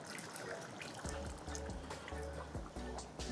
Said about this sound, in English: So now I'm going to add some more water so we can cook the pasta.